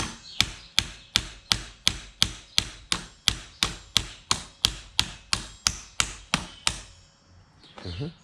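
A small hammer taps about seventeen times at an even, brisk pace while a handlebar mirror is fitted to a Honda CB650R motorcycle, each sharp, close strike ringing briefly before a short rattle and quiet at the end.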